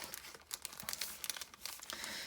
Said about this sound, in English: just show you what you get in your little plastic bag